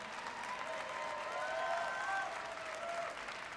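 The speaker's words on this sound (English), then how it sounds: "Can we give a round of applause for the Bitcoin Magazine team," An audience at the Bitcoin 2022 conference claps in a soft, distant roar, with a few whistles threading through the steady applause for its full few seconds.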